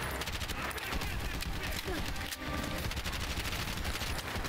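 Gunfire from shooting enemies in the video game Bright Memory Infinite, continuous loud bursts of shots with a brief dip midway, dense and close throughout.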